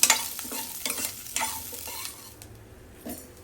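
Green chillies fry over low heat in a pan while a spoon scrapes and stirs them, giving quick scraping strokes over a gentle sizzle that fades toward the end.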